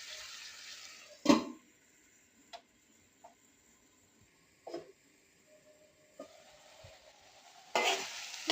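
Gongura chutney being stirred in a pan on the stove, with a few sharp scraping strokes and soft clicks over a faint, steady sizzle of the simmering mixture.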